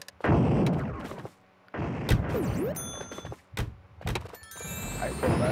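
Cannon blasts in the video game Pac-Man World Re-PAC, several heavy booming shots spaced unevenly with thunks and short ringing game effects between them, loud and close.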